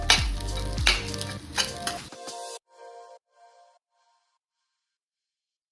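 Butter stirred through Korean fried rice in a hot pan: loud sizzling and scraping stir strokes for about two seconds, then the frying fades to faint, broken crackles and silence.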